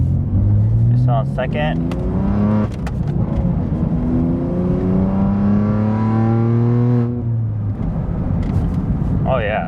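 BMW M2 accelerating hard in race mode, its engine note climbing through rising pitch sweeps, then easing. Someone talks briefly over the steady in-cabin drone.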